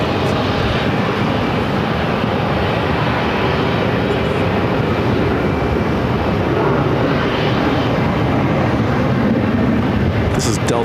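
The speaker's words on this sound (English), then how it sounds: "This is Delta Flight 1432, arriving from Salt Lake City on an A320." A Delta Airbus A320 arriving from Salt Lake City at Phoenix airport, a loud, steady jet roar that fills the whole clip and holds at a constant level, with no talk audible over it.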